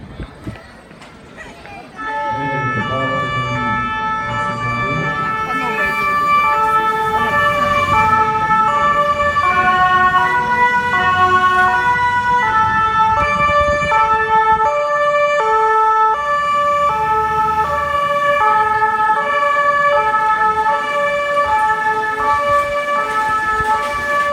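A fire engine pump truck arrives at a firefighters' day event in Nyon, Switzerland, its loud, steady two-tone siren wailing continuously close by over a rumbling motor.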